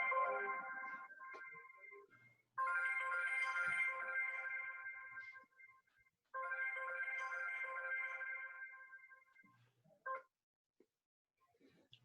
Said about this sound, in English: there's somebody on my phone